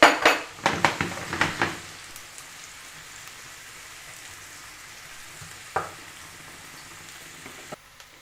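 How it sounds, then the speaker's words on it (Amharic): Onions dropped into hot oil in a pan for a macaroni sauce, giving a burst of sizzling and clattering at the start that settles into a quiet, steady frying hiss, with a couple of brief utensil knocks later. "ከዛም ዘይታችን ሲገል ይበቃል ብለን ያሰብነውን ያክል ሽንኩርት እንጨምራለን"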